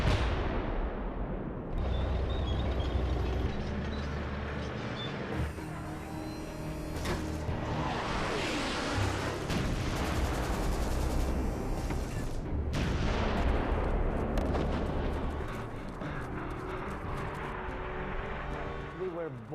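Dense, continuous rumbling explosions and artillery bursts of aerial and ground bombardment fill a war film scene, loud and layered, with a voice speaking over the barrage.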